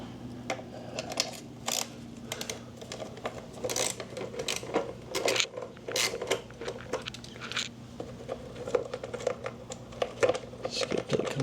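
Bolts being removed from the skid plate of a 2024 Yamaha YZ250FX dirt bike, heard as repeated small metallic clicks and ratchet-like ticks at an irregular pace over a low steady hum.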